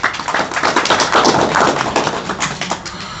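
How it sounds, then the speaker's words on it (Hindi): A crowd gathered for a village community event in Jaunpur claps loudly and steadily, dense overlapping hand claps filling the space for several seconds without speech. "ताली बजाइए जोरदार।"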